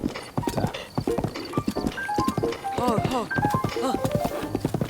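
Rhythmic horse hooves clip-clop along a road in The Legend of Zelda: Breath of the Wild, sounding steady and fairly close beneath continuous talk, with game music tones woven through.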